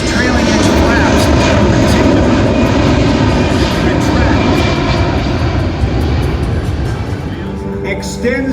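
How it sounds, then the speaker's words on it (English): A KC-135 and a C-17 Globemaster III fly past at an air show with a loud, continuous jet engine roar that slowly fades, while a voice speaks over a public address system. "Ladies and gentlemen, the KC-135 and the C-17 Globemaster III."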